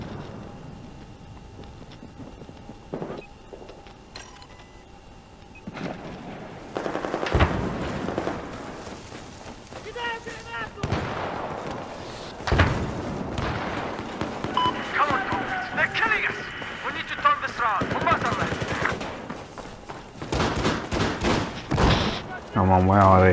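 Gunfire rings out in a Battlefield video game match, with scattered shots and rattling bursts of varying loudness mixed with other game noise and a voice, building toward a dense final stretch.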